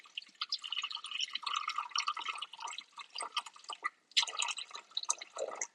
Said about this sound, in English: the first ingredient I'm going to add is my water